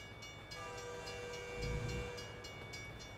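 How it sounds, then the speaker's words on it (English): A train in American Truck Simulator rumbles past with steady rolling noise and a low surge midway, sustained tonal horn-like hums above it, no talking. "Let's hear how a train sounds."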